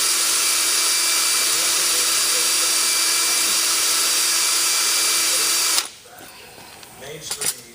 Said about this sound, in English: this is just nylon bristles that give it a polishing